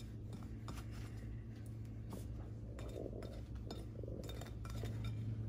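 Dry batter for loaded cheese fries is mixed in a bowl, with a utensil clinking and scraping against the bowl in quick irregular strokes, quiet and close.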